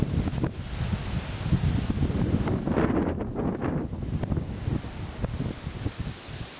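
Wind gusting across a mountaintop at Twin Peaks on a cool day, loud and buffeting on the microphone as a steady rushing roar with no voices.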